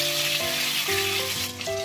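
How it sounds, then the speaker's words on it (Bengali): Tomato goes into hot oil in a wok seasoned with black cumin seeds, giving a steady close sizzle and frying hiss that runs throughout, under a sustained musical tone with no talking. "এবারে টমেটোটা দিয়ে দিচ্ছি"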